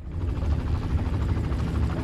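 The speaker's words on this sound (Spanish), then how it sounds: "Tiene un helicóptero." A helicopter in the video game Far Cry drones loudly with a continuous low rotor rumble and a fast, steady thumping pulse.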